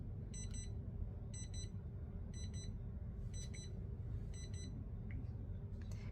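Electronic alarm buzzer on a pixel art display sounds in five evenly spaced bursts of rapid high beeps, each under a second long, over a steady low room hum.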